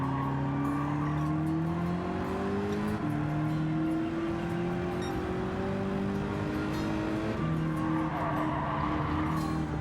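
Ford GT40 Mark 1 from 1966 in a racing video game, engine droning steadily with rising gear pulls and tires squealing through a chicane, a sustained mid-level whine over road noise.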